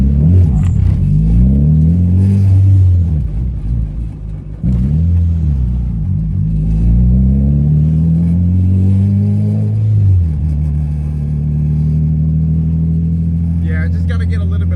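A 1999 Honda Civic with a turbocharged B-series engine and very low clutch engagement is driven. The engine rises in pitch through repeated revving pulls between shifts, then settles into a steady drone while a person talks over it.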